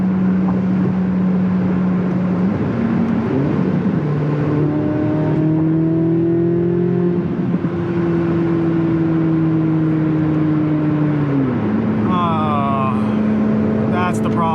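A 2025 Chevrolet Corvette Z06 engine drones steadily, its pitch rising and falling as the revs change, continuous and up close inside the cabin, with someone talking over it.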